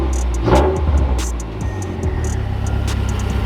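A rebuilt, previously wrecked Mazdaspeed 3 idling with a couple of light blips of the throttle, the engine rising briefly then settling back to a steady rumble, heard close up with some clicking noises.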